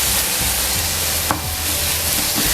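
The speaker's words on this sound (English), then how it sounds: "now I'll proceed to rigorously mix the keema with the masala" Keema mince being worked together with masala in a pan for Parsi-style kheema ghotala, a steady scraping and stirring against a low background sizzle, close and continuous.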